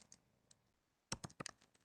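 Keys clatter on a computer keyboard as code is typed, a few faint isolated taps followed by a quick close burst of sharp clicks, with no talking.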